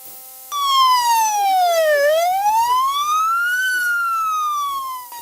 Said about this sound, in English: The loud blaring sound of the siren is an indication of an emergency situation